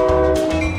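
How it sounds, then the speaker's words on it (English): A train rumbles past with a sustained horn tone sounding over the steady low roar of the rail cars. "Chasing a train."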